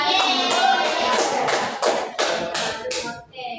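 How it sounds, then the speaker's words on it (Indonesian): A class of students claps together in a rhythmic pattern, crisp unison claps landing in a quick regular beat, close and fairly loud, with a brief gap before the last few. "tepuk tangan yang buat Belalina"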